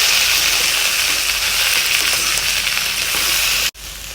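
Okra deep frying in a pan, a steady dense sizzle throughout at close range, cutting off abruptly near the end.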